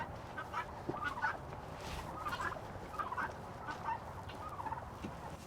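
Wild turkeys gobble in the dark, several close rattling gobbles repeating about every second amid soft rustling and a low steady background, no talking.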